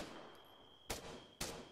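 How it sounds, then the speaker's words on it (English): Sporadic video-game gunfire: two sharp, fairly distant shots about half a second apart over a steady background hum with a faint high tone, no voices. "We're getting new sporadic fire from that."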